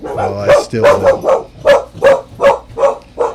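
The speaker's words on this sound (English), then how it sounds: "That was my dog going off." A dog barks repeatedly at a steady rhythm, about eight loud close barks, while a person speaks over the start of the barking.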